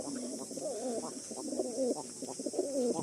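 Pigeons in a loft coo in repeated rolling phrases, fairly close and steady, with a constant high hiss running underneath.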